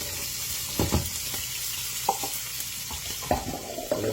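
Onions frying in a pan around a steak give a steady low sizzle, broken by several soft scraping clicks and stirring taps spread through the moment.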